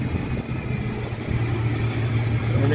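Tuk-tuk rides through the back lanes around Loi Kroh Road, its small engine droning steadily at close range with rushing wind and road rumble, no voices.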